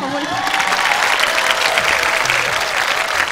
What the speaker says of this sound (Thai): ผมขอเสียงปรบมือให้น้องดิทเลยครับ